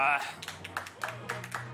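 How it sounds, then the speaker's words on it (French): Studio audience clapping on a French TV entertainment show after a magic trick, a short burst of applause mixed with talk. "Applaudissements"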